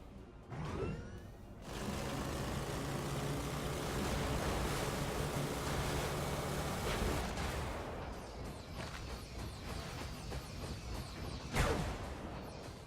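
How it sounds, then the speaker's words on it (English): Tanks blowing up in the top-down mech game Brigador, a dense sustained roar of explosions and gunfire with sharp blasts breaking through near the end, loud and continuous with no talk. "I think it's just those tanks blowing up"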